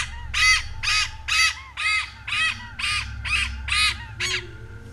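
A crow-like bird calls in a run of about nine harsh, evenly spaced caws over a low hum, loud and close.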